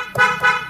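Two short, quick honks of a car horn, close and fairly loud.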